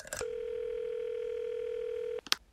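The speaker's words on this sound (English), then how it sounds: "Ringing the police department." A telephone line ringing through to a police department in a classic radio drama, heard as one long, steady tone lasting about two seconds, bracketed by short clicks.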